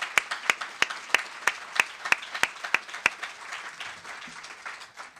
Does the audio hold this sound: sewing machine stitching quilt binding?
no